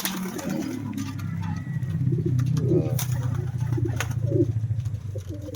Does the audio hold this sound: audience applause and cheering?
no